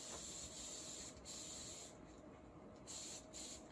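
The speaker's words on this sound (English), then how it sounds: "I spray a little bit of water" Soft hissing sprays of a spray bottle, faint and continuous with brief pauses between pumps, close by and quiet.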